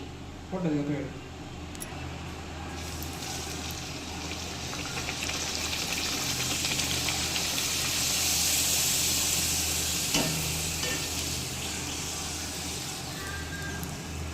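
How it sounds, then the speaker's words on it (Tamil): Poori frying in hot oil in a kadai, a soft broad sizzle that swells in the middle and settles, with a brief clatter early on and quiet talk in the background. "இப்போ நம்ம இதை எண்ணெயில் போட்டு எடுக்கலாம்"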